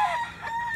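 A Pava rooster crows once, a short loud call close by with no talking over it.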